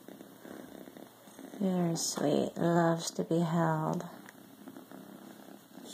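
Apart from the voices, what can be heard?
kitten purring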